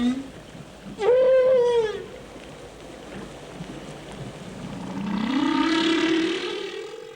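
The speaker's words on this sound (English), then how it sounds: "one of those Earth sounds is the song of the humpback whale." Humpback whale song carries through a hissing watery background. A sharp rising call with rich harmonics comes first, then after a quiet gap a long, drawn-out moan that slowly sweeps upward.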